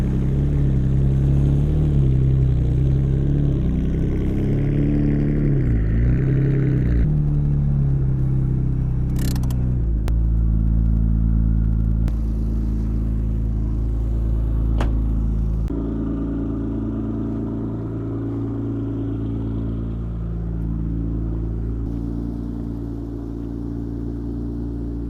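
A Nissan Skyline R34 engine starts, then rumbles and idles with a low steady drone, revving up and settling at moments, close by and fairly loud.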